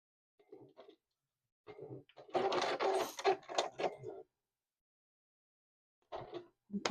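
A sewing machine runs simple single straight stitches on a zippy pouch bag in short close bursts, a couple of brief whirs, then a louder sustained run of stitching, a pause and another start, with no talk.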